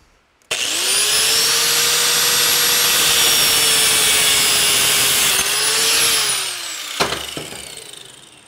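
A power cutting tool slices a section off a rusty sprocket part, a loud, steady high-pitched whine held for about six seconds, then rising in pitch as the cut finishes and dropping away, with a short clank after.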